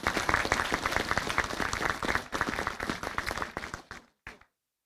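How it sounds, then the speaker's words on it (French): A crowd at a town mayor's New Year ceremony, honoring a medal recipient, breaks into dense, warm applause that holds loud and steady, then thins and stops abruptly, with a final short burst of claps before silence. "Je vous demande de l'applaudir très chaleureusement."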